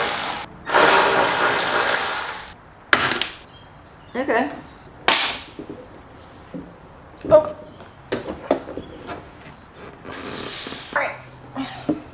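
An air blower fires short, forceful blasts of air to clear bugs off a Mk7 Golf R during fender removal: a long first burst, then several brief bursts with quiet gaps between them.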